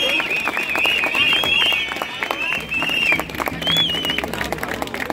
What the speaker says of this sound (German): Ja, das ist Applaus wert.